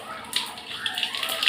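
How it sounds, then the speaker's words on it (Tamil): Mustard seeds hitting hot oil in a pan while cooking paruppu rasam, a soft crackling sizzle that picks up after a moment with scattered small pops, close and fairly quiet. "எண்ணெய் ஊற்றிட்டேன், கடுகு போட்டுக்கிறேன்."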